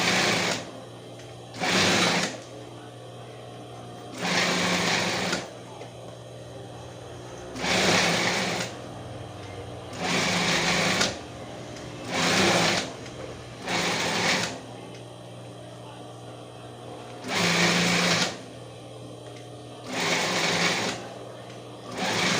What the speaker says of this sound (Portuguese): aqui eu vou costurar ele na largura da sapata da máquina